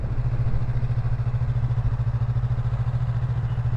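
A Yamaha MT03 motorcycle idles at a stop sign, its engine giving a close, steady, pulsing low rumble with no talking.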